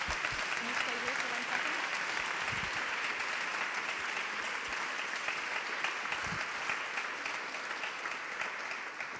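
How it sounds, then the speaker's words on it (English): Audience applause for guests at a European culture launch event, a steady, full wash of clapping lasting around nine seconds and tapering slightly at the end. "Can you all give me a big round of applause for our lovely guests?"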